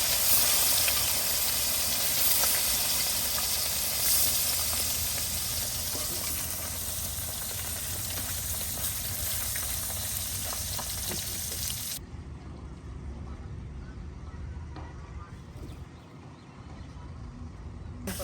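Koi fish frying in hot oil for a curry with cauliflower, a steady loud hiss and sizzle that drops abruptly to a quieter crackle partway through.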